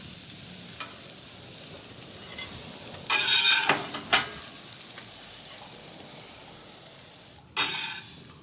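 A steady soft sizzle of eggs frying on a hot griddle, interrupted by a few louder scraping and crackling bursts as things are moved around.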